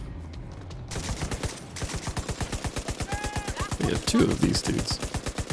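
Rapid, evenly spaced automatic gunfire from enemies in The Division 2 rattles on for several seconds, loud and close. A player's voice talks briefly over it.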